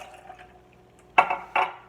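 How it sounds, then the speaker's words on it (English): Water poured into a blender with ice, two short splashing bursts of liquid over a quiet background, without any speech. "I'm going to go in with the water"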